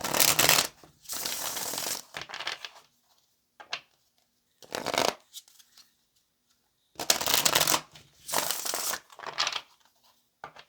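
Tarot cards are riffled and shuffled in repeated crisp bursts, close and fairly loud, with brief pauses between rounds and no talking.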